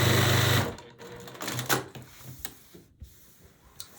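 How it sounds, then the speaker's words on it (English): A sewing machine stitches a quilt block: a brief steady motor hum at the start, followed by clicks, thumps and fabric handling nearby. "So I'm gonna sew the other side."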